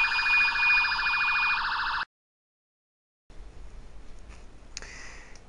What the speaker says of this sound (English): they both go to exit 23, but I do get an alarm.